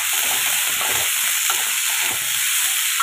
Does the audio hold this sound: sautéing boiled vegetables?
yes